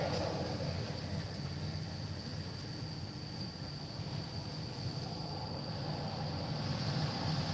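Steady broadband blowing from a room air conditioner turned up high on a hot night, a constant whooshing hiss with a faint whine, continuous and close with no voices.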